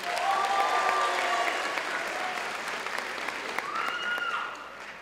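Steady audience applause fills the hall for a contestant at the Dr. Harriton 2022 hero show, a dense, loud wash of clapping that holds throughout and eases slightly near the end, with faint voices mixed in.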